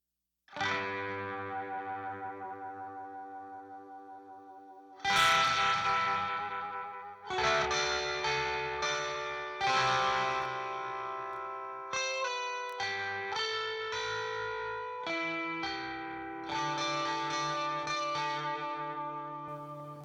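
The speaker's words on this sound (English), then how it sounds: "here's what that part sounds like without those two compressors" A melodic electric guitar or synth part in a pop mix, without compression, plays sustained notes and chords, each attack ringing out and fading naturally, with echo-like tails between phrases.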